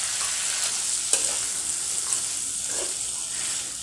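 Boiled, mashed banana stem stirred with chickpeas in a pan for a Bengali vegetarian dish, a brief hissing fry with a few scrapes and taps of the ladle.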